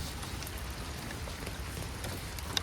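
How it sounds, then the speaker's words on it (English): Steady rain patters outdoors as a soft, even hiss with scattered drop ticks, quiet and continuous throughout. "Oh, it's raining."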